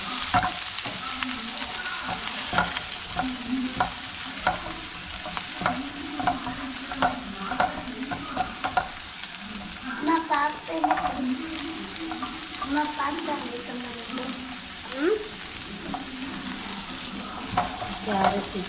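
Garlic sizzles steadily in a hot pan while a utensil stirs it, giving repeated close scrapes and taps over a continuous frying hiss, without any talking.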